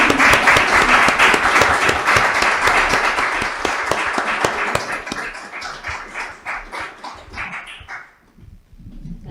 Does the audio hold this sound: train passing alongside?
no